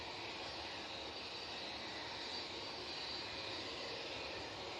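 A British Airways Airbus A320ceo jet flies past at Manchester Airport, its engines a faint, distant, steady rumble and hiss with no voices over it.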